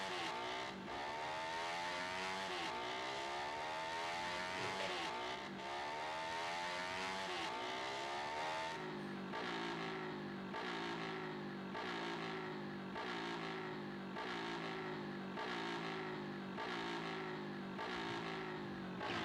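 A Yamaha Fazer 250 motorcycle accelerates hard toward top speed, its engine rising through several gears with a clear pitch drop at each shift, loud and close throughout.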